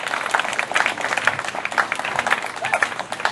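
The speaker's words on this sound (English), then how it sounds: "please, everybody, give a big round of applause for Gary Moore." Audience applause for a cancer survivor day speaker, a broad steady wash of claps at moderate level running the full length without a clear end.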